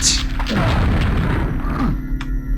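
A rocket launched in a video game hits with a deep, loud boom followed by a rumbling tail, then a second muffled thud and some faint mechanical clanks, with no voices.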